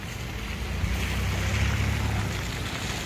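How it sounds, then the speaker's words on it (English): Steady, broadband rushing water with a low rumble, continuous and fairly loud, from Vail Falls near Black Bear Pass heard up close, with some wind noise. "This is the waterfall that we drove right next to coming down Black Bear Pass."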